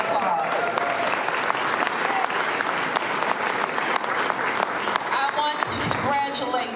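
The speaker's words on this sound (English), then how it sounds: "So let's give them a round of applause." An audience applauds at a civic event, dense sustained clapping filling the room at moderate loudness, with a voice briefly audible near the end.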